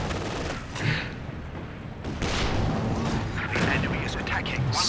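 Rocket artillery fires in Company of Heroes 2 during a four-versus-four battle, with rapid thudding launches and booming blasts over a rumbling din of gunfire, while a voice speaks over the fighting.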